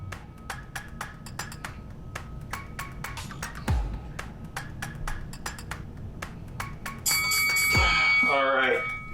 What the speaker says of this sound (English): Ignore the bell, this is your recovery period.